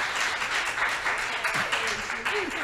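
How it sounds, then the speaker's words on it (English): A creative writing showcase audience breaks into a dense round of applause, with scattered cheers and voices rising over the clapping. "I would love for y'all to give her a huge round of applause"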